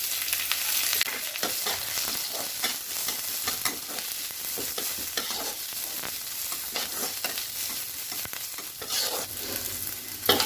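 Garlic frying in a hot pan for Odia-style dahi kadhi, a steady crackling sizzle broken by repeated scraping stir strokes, close and continuous without talk.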